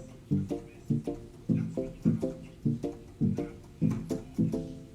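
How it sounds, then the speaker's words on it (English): Electric piano voice on a keyboard with the filter cutoff turned down, played as short, muffled vamping chords in a steady rhythmic pattern, close and fairly soft with no speech. "Now, cutoff is if you want to transform E piano to something like a vamping"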